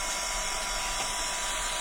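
A hair dryer blasting air to dry paint on a Stamperia craft project, a steady close broadband whoosh held without a break and with no talking.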